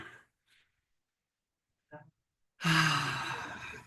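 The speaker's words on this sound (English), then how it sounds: "Just taking a couple of nice, big, deep breaths, connecting to this body in this moment with each breath" Deep meditative breathing, with a few soft short breaths and then a long, loud, close exhale like a drawn-out sigh.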